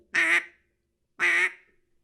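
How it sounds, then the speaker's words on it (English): A duck call blown close up gives two separate, evenly spaced basic quacks, each short, nasal and clear against silence. "if you're gonna learn one note, you need to learn just a basic quack"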